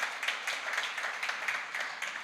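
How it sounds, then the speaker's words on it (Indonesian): A church congregation claps together in a steady, fairly quiet wash of many hands during a worship service, with no voices over it. "Mari kita berikan tepuk tangan bagi Tuhan."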